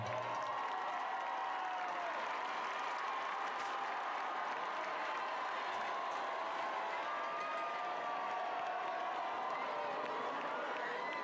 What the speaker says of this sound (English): A round of applause for the cheerleading squad.